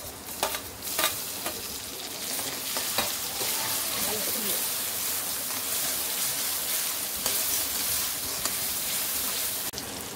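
Chopped onion, curry leaves and garlic sizzle in hot oil in a pan for a Tamil lentil-ball curry, a steady close crackle with a few sharp spatters early on.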